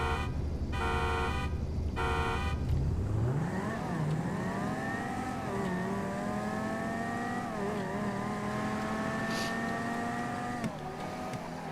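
A car engine in GTA V pulses against a rev limiter, then climbs and holds high revs with pitch dips and jumps between gear changes, loud and close with no talk.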